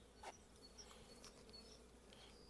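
Honey bees buzz around a hive with a ten-frame box, a soft continuous drone with individual bees whining past close by, ending in a louder thump.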